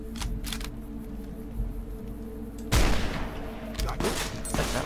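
Gunfire in Fallout New Vegas: a few scattered shots early on, then a louder burst of rapid shots near the middle and more sharp reports toward the end, over faint game ambience.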